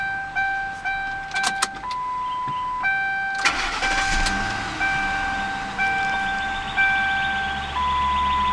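A 2011 Ford Crown Victoria engine cranks and turns over, then settles into a steady idle, with electronic chimes beeping repeatedly throughout.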